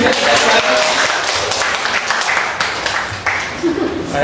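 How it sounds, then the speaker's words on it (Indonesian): A crowd claps in a burst of applause that carries on steadily, with people talking over it. "Beri tepuk tangan."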